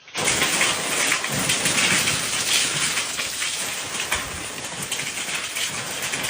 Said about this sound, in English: the passing front brought heavy rain and in some places, strong winds